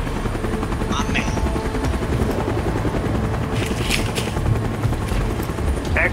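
A video game helicopter flies with a loud, steady rotor drone throughout, joined by a few brief sharp bursts and clatters of gunfire-like noise.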